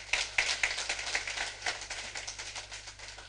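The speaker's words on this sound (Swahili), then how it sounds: "Piga Yesu makofi kwa jina la Yesu." A church congregation at a deliverance service claps their hands in uneven bursts. The claps are fairly faint and sound distant and roomy, thinning out toward the end.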